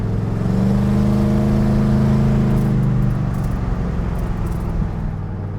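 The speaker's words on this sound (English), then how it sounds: "The car's running and driving." Car engine running close by, a steady humming idle with faint swells in revs that eases slightly toward the end, with no talking.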